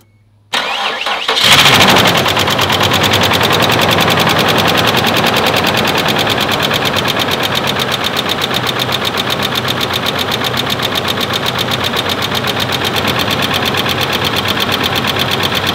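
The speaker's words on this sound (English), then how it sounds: "then we'll fire it up and see if it will actually jumpstart this Isuzu." An Isuzu with a very dead battery cranks and fires up after a jumpstart, then settles into a loud, steady running idle that carries on alone, with no voices.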